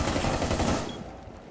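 A quick burst of rapid gunfire from a first-person shooter video game, a short stuttering rattle of several shots that fades out within a second and a half.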